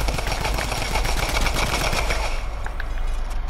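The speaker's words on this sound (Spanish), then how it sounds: "Le disparo al aire, le disparo al aire." Rapid bursts of automatic gunfire in the video game Fortnite rattle continuously, close and loud, with a brief lull near the end before a few more shots.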